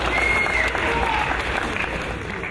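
Applause from the crowd after a boxing bout ends in a draw, steady clapping filling the hall at moderate level with faint crowd murmur behind it.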